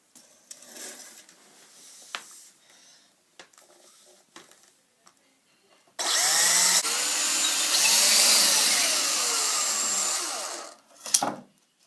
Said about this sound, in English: Drill a hole right here, same size as the cable.